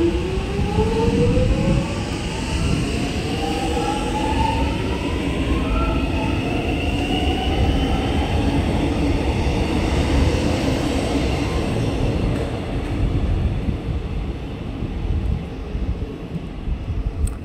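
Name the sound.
train passing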